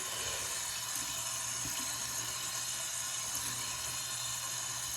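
Running tap water streams steadily over makeup brushes being rinsed at a sink, a constant close splashing hiss with no talking.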